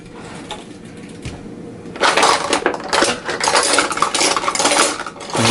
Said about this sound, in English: Let me try adding a little more sugar, see if that helps everything solidify a little more.